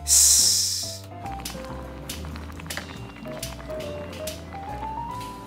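A kamameshi rice pot at a Higashi-Hiroshima restaurant sizzles hot and close, with a loud hissing burst at first that settles into quieter bubbling under soft background tones.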